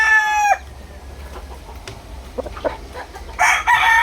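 A Sweater gamecock rooster crows near and loud, one crow cut off early and another at the end, with faint clucks and soft farmyard noise in between.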